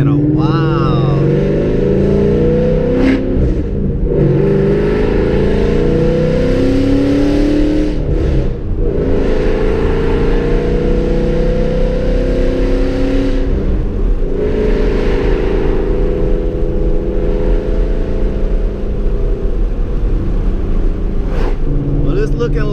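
A Ford Mustang cruising on back roads, its engine a steady low drone with occasional rises in revs as it accelerates, heard from inside the car with a voice talking over it.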